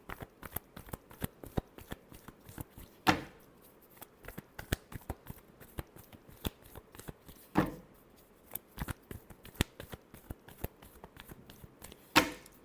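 A deck of tarot cards is riffled and shuffled by hand over and over. The rapid flutters and slaps come in repeated bursts, and three louder snaps stand out. The sound is close and fairly quiet, with no talking.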